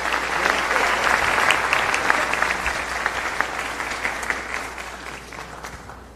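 Audience applause at a book fair talk, sustained clapping from a sizeable crowd that swells early and slowly fades, with a little background chatter.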